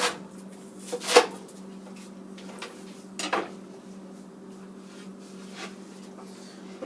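Sharp knife slicing through onion in a Viking-style kitchen, two crisp cuts against a board with a fainter third, quiet hum underneath.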